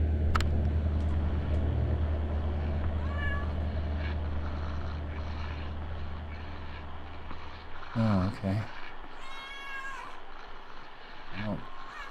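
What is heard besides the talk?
cat meowing in video game Kentucky Route Zero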